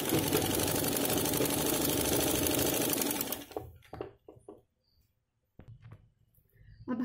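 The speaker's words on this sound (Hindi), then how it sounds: "अब हमको ये नीचे वाला जो किनारी है इसको सिलाई कर देना है।" A sewing machine stitches the lower edge of a blouse in a fast, steady mechanical run for about three seconds, then stops, leaving brief handling clicks and fabric rustles.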